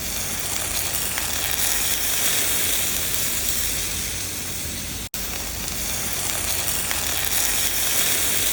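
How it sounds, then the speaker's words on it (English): Hot sugar syrup pours over freshly baked, crispy Turkish baklava pastry and sizzles loudly and steadily, a close, continuous hiss broken by one brief cut partway through. "You heard that sizzling sound when the hot sugar syrup hit the crispy pastry?"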